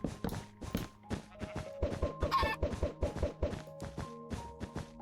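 Chickens in the Minecraft video game cluck repeatedly in a quick, busy rhythm of short clucks and thuds close by, with no talking.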